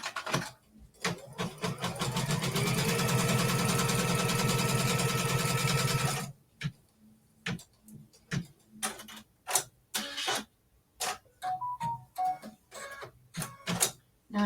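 A sewing machine stitches quilt pieces in a continuous, loud, close whirring run of about five seconds, followed by intermittent clicks, handling taps and short bursts of movement.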